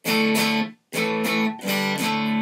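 Clean electric guitar tone with the Juggy boost pedal switched off: three loud, ringing strummed chords, each sustained and separated by a brief gap, played alone without talk.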